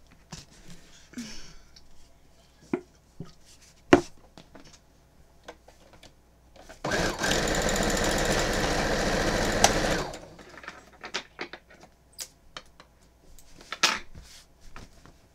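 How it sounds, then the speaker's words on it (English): A sewing machine stitching quilt strips runs in one steady whirring burst of about three seconds, framed by scattered clicks, taps and handling noises of fabric work nearby. "Let me get sewing."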